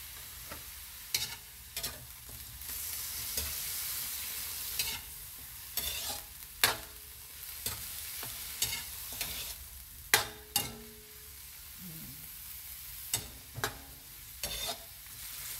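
Chicken tinola with vegetables and fish sauce is stirred in a pot, with a soft sizzle underneath and a string of sharp spoon clinks against the pot at irregular intervals.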